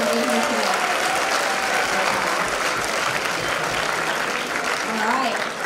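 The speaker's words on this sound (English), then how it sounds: "can we give another round of applause for Mr." An audience at a high school career day keynote gives a sustained round of applause, dense and steady throughout, with a voice briefly audible beneath the clapping.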